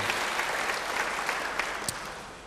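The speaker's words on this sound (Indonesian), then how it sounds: "Beri tepuk tangan yang baik bagi Dia." A church congregation applauds during an Indonesian worship service: steady, dense clapping from many hands fills the room at moderate level, without a break and with no voices over it.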